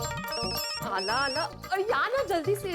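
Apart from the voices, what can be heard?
telephone ringing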